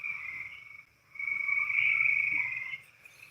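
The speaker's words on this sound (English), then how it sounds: "frogs croaking in the distance" Frogs croak in a distant, steady chorus that holds for several seconds with a brief dip near the start, and nobody speaks.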